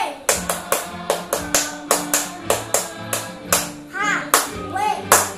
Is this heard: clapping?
yes